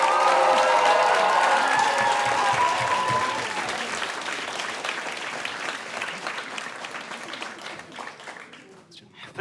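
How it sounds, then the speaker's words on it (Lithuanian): A studio audience applauds to welcome guest Henry Match onto a talk show, loud sustained clapping with some cheering that gradually fades over several seconds. "noriu, kad dideliais plojimais pasitiktumėt legendą Henry"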